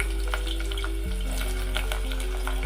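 Thinly sliced onions fry in a pan after 2-3 cloves, 2 bay leaves and 4 green chillies go in for a country chicken curry, with a steady close sizzle and a few scraping stirs.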